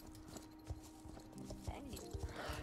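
Horse hooves clip-clopping in the Star Stable Online video game, a steady run of soft thuds with a horse snort near the end, heard under a voice.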